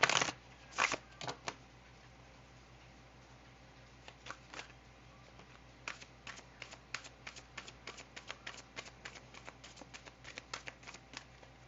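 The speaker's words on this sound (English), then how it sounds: "let me shuffle these." Tarot cards are shuffled by hand, a burst of riffling at the start followed by many soft, quick slaps and taps, close and quiet.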